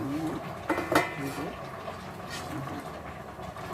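A metal couscoussier steamer pot for Moroccan couscous with vegetables and chicken is handled, giving a few close metallic clanks and knocks in the first second, then a steady low kitchen background.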